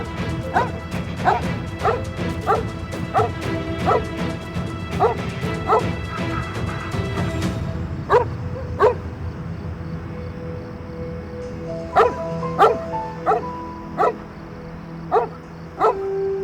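A dog barks over and over in sharp, evenly spaced yips, fairly close, continuing steadily with short pauses and slightly irregular timing in the later stretch.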